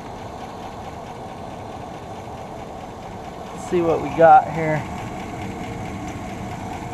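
A Chevy Silverado engine idles steadily with a faint ticking, running close by as someone speaks briefly over it.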